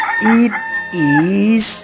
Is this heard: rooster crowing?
yes